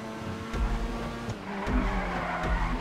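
A car's tires skid and squeal under the handbrake in GTA V, a continuous screech over a revving engine with a few thumps, loud and close with no voices.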